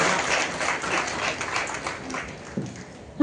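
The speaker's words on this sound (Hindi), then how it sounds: "तालियां बजती रहनी चाहिए" Applause from a gathered audience honoring a women's police patrol team of sixteen at Amrita Haat 2025, a steady dense clapping wash throughout, moderately loud and fairly close, with a sharp louder burst at the very end.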